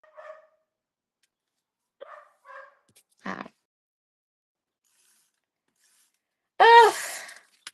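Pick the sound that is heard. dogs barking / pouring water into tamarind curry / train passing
dogs barking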